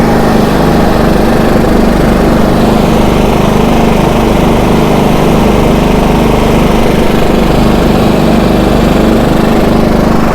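A small inverter generator engine runs at a steady, loud drone close by while powering a stick welder, with no change in pitch or level throughout.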